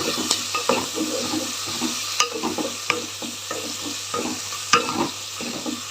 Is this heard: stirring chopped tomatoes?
yes